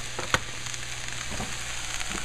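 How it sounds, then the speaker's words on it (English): Herbs and vegetables sauté in a pan for gluten-free lasagna. A steady, crackling sizzle runs throughout, with a sharp clink of a utensil near the start and faint stirring scrapes. "I'm going to throw this into this and saute it up a little bit."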